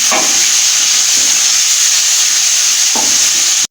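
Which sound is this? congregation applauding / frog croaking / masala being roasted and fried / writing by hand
masala being roasted and fried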